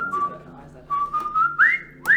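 Whistled marching tune for a drummer-style march, a few melodic phrases with rising swoops near the end, close and fairly loud, alone without talk.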